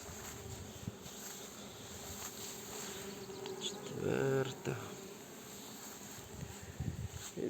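Honeybees buzz steadily outdoors around flowering rapeseed, a dense insect drone with one passing close and louder partway through, amid faint background noise.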